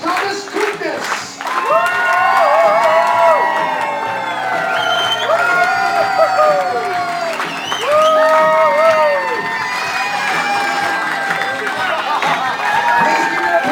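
Wedding guests at a Rhode Island country club applaud and cheer the newlyweds, with dense clapping, whoops and shouts that swell and fade in waves for the whole stretch, close and loud.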